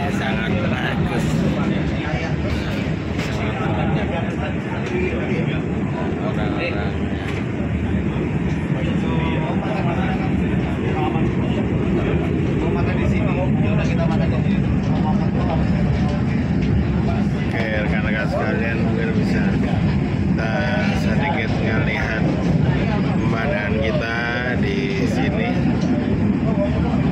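A steady rumble and rattle fill the dining car of the moving Taksaka train between Yogyakarta and Jakarta, with continuous rolling noise beneath people talking nearby throughout.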